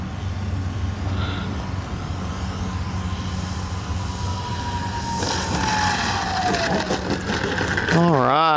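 An X-Fly Twin Otter 1800mm twin-engine RC plane approaching with flaps down to land on grass, its steady electric motor drone rising and shifting in pitch as it comes in close, with wind noise throughout.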